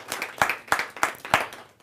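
At a Hindi poetry gathering, a small audience welcomes a guest with scattered rhythmic clapping, about six distinct sharp claps spaced evenly and fairly close, with no voices.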